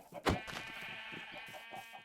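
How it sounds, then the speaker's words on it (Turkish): A sheep in the Minecraft video game gives one loud, close bleat, followed by a sustained, buzzy bleat that holds for over a second over faint game sounds. "iki tane koyunum çıkmış mesela."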